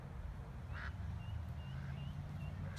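Ducks at a small, trash-strewn pond give a few short quacks, faint and somewhat distant over a steady low rumble of background noise.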